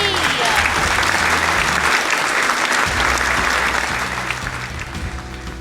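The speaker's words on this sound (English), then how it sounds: "Round of applause, everybody!" Loud, dense applause from a crowd at a Disney Hollywood Studios show, a steady wash of clapping that holds for several seconds before easing slightly toward the end.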